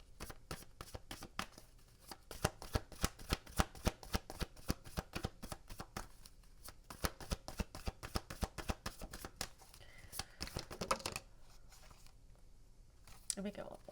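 Affirmation cards are shuffled by hand in a quick, rhythmic series of crisp riffling snaps and papery flutters. The sound is close and fairly soft, and it thins into looser shuffling toward the end.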